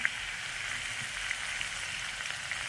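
Tomatoes sautéing in a pan for a Boi fish curry, giving a steady, soft sizzle with faint crackles and no voices.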